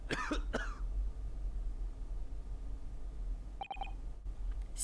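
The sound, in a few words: character coughing in The Great Ace Attorney video game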